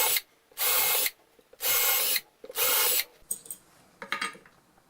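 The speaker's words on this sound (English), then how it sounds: "switch out your drill bit for one that will match the screws and make your guide holes" A power drill boring screw guide holes into a wooden board: three sustained whirring bursts of about half a second each, separated by pauses, then a few shorter, choppier spurts, close and clear with no talking.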